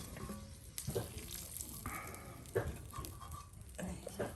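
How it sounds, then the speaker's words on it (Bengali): Eggs frying in oil in a village kitchen, a constant crackling sizzle with intermittent clatter of a spatula against the pan, close by. "ডিম ভাজা নিলাম।"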